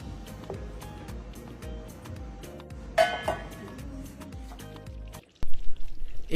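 Meat stock poured into a simmering stew, a soft liquid pouring and trickling sound with faint clinks, fairly quiet, ending in a brief silence followed by a louder splash.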